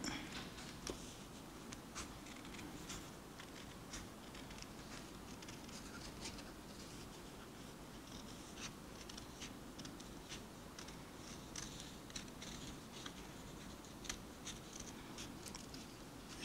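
Steady scissors snipping through paper along a drawn line, a run of small crisp cuts with faint ticks, close and quiet throughout with no voices.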